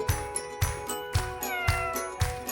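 A black Bombay cat's meows sound about twice a second, loud and close, set against a steady musical background with no speech.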